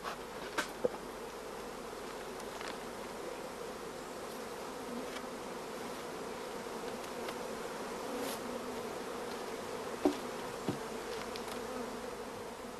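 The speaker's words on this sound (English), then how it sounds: "The starter colony should be overflowing with bees" A crowded starter colony of honey bees hums in a dense, steady drone throughout, with a few faint knocks and clicks scattered over the continuous buzzing and no voices.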